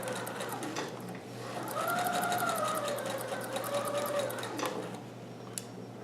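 A sewing machine stitches across the bottom hem of a Hawaiian shirt, a steady close mechanical whir that rises in pitch as it speeds up mid-run, then slows and stops near the end.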